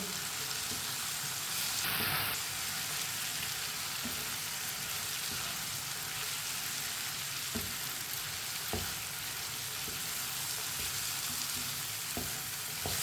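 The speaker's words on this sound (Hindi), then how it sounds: "कद्दू को मिक्स कर लेंगे।" Chopped bottle gourd (lauki) fries in a pan with a steady, loud, close sizzle throughout, broken by occasional sharp scrapes and taps as it is stirred; no one speaks.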